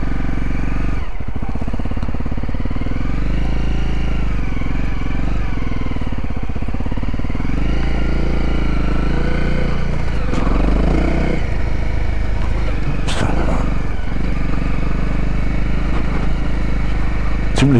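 A Honda CRF 250L motorcycle runs on slippery wet grass, its engine a loud, close, continuous drone that rises and falls with throttle changes, with wind noise over it.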